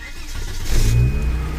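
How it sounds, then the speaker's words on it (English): A 1994 Volvo 850 with a 2.4-litre engine and a faulty MAF signal cranks and catches, its close, loud engine noise swelling into a brief rev. "Let's start our car up."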